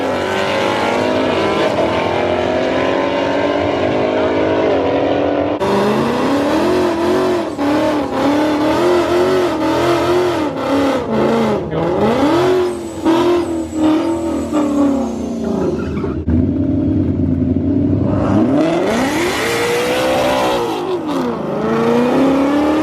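A ZL1 Camaro or GT500 Mustang launches hard in a street race, engine roaring loud and close as it revs up through the gears, with tire and whir noise under a sustained high-pitched acceleration.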